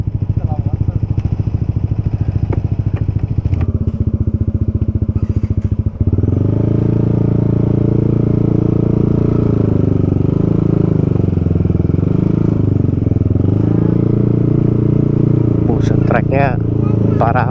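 A motorcycle engine chugs and revs steadily up close while being ridden over a rough road, with a rider talking over the engine and rattling clatter near the end.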